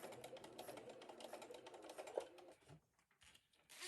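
A domestic sewing machine stitches fabric along the edge beside a zipper while a cross stitch portfolio bag is assembled, a quiet, steady mechanical chatter that runs for a couple of seconds, then stops and leaves only faint sounds.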